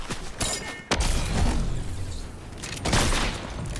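Sniper rifle shots in the video game Fortnite, a few sharp loud cracks with booming tails spaced across a busy, noisy game soundtrack.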